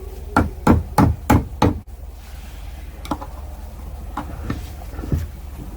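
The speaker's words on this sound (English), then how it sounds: "Put it up a little with a hammer" A hammer taps a part on a Lambretta scooter: a quick run of five sharp metallic knocks, then a few lighter, spaced taps after a pause, close by in a quiet workshop.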